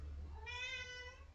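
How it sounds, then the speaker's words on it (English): A pet cat named Tiger gives a single drawn-out meow, clear and fairly close over a faint low room hum, with no talking. "yes, Tiger, it's my kitty"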